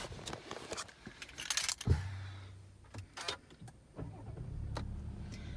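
A Volkswagen Touareg 3.0 TDI R-Line with automatic gearbox starts up inside the cabin: clicks and a brief jangle, a short starter crank, then the diesel settles into a low, steady idle.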